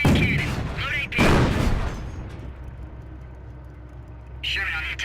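Tank main cannon fire in Company of Heroes: two loud close blasts in quick succession, each with a sharp crack and rumbling low tail, then a quieter stretch and another burst, with radio-style voices over the action.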